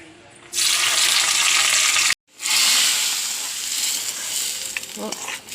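Onions tossed into hot oil in a pan burst into a loud, bright sizzle, which cuts out briefly and then resumes as a steady frying hiss with occasional stirring.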